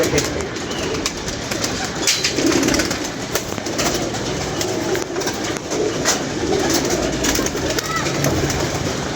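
Pigeons coo softly amid a busy, noisy outdoor background, with a voice heard faintly at times.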